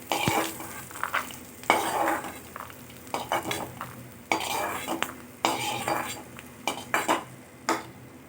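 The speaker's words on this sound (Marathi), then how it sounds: "आपल्याला शेंगदाणे लालसर होईपर्यंत भाजून घ्यायचे आहेत" Peanuts are dry-roasted and stirred in a metal kadhai, producing close, rhythmic bursts of scraping and rattling as the spatula sweeps through them every second or so.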